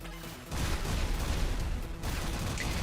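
Rapid bursts of explosions crackle and boom in the GFL2 Exilium Aphelion mini game, a loud dense barrage that swells after a brief quieter opening and rolls on continuously.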